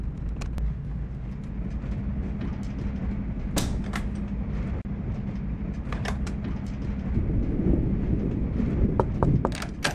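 Steady rumble of a passenger train running toward Vienna in the video game The Last Express, a continuous low roll with intermittent clanks and creaks of the carriages, growing slightly louder near the end, with no talk.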